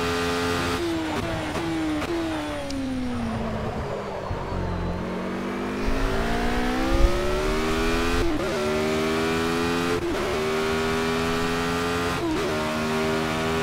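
Race car engine in the Project Cars racing game, loud and steady throughout, with the pitch climbing and dropping through gear changes and sharp dips on shifts as the car laps a track.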